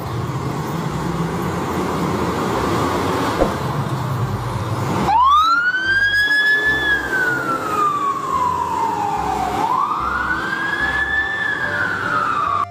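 A toy fire truck siren wails loudly, rising and falling in long electronic sweeps after a few seconds of faint background noise.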